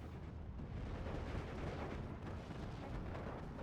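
60mm mortars firing in Steel Division 2, a dense continuous rumble of battle with blasts blurring into one another, steady and fairly loud with no talk.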